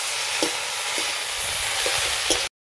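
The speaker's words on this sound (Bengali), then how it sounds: "এরপর আমি শাকটা দিয়ে দেবো। এটা আমি ভালোভাবে ভেজে নেব।" Kurol shak leafy greens sizzle and crackle in a hot pan, with a few soft stirring clicks over the steady frying hiss.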